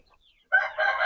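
Aseel chickens on a farm give a short fowl call, a single rooster-like crow or cluck that starts halfway in and runs to the end, fairly close and clear, with no talk over it.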